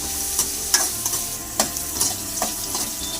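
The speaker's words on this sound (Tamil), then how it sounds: "நல்லா வெங்காயம் செவட்டும்." Chopped onions frying and browning in a pan as the base for a fried chicken gravy, a steady close sizzle broken by several sharp scraping stirs of a utensil against the pan.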